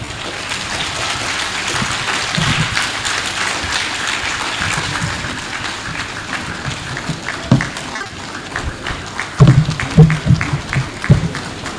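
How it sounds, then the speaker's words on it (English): An audience at a university inaugural lecture claps steadily, a dense continuous patter of many hands, with a few louder individual claps standing out toward the end. "let's continue with the applause in appreciating the delivery of the inaugural"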